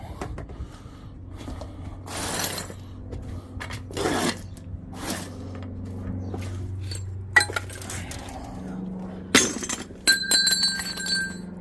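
Scrap copper pieces, including cable and small cylinders, are tossed one after another onto a metal scrap pile, giving a series of sharp clanks and glassy clinks at irregular intervals, close and fairly loud, with no talking.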